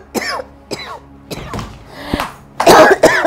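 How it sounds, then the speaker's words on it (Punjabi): An older woman coughs in a sudden fit: several sharp, harsh bursts separated by brief pauses, then a louder, raspier cluster at the end, all close and with no other talk. "ਅਚਾਨਕ ਇੰਨੀ ਖੰਘ ਕਿਵੇਂ ਲੱਗ ਗਈ"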